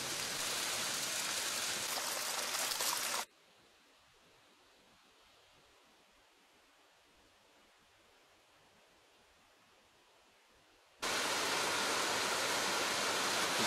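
Water from a karst spring pours out below a massive limestone cliff and drops about 3.5 to 4 metres as a waterfall, giving a loud, steady broadband rush that cuts to quieter ambience midway and then returns.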